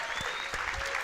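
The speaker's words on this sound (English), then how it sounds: "Give her a round of applause." A crowd at a Las Vegas teen town hall event gives a short burst of applause, with a few sharper individual claps standing out over the dense clapping.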